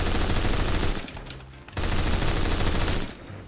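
Bursts of HK21 light machine gun fire in a first-person shooter game, loud and rapid, in two sustained volleys separated by a brief pause, with a faint mechanical clatter between them.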